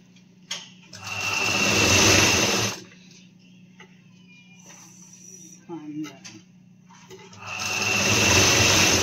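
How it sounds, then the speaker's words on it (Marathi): A sewing machine stitching a blouse, two loud close bursts of whirring run at the start and end with a quieter humming pause between, a low background drone throughout. "आता मशीनवर आणखीन एक ब्लाऊज चालू आहे"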